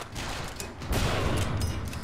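Heavy gunfire in BioShock Infinite sounds as a loud, dense, continuous crackling barrage, close and unbroken throughout.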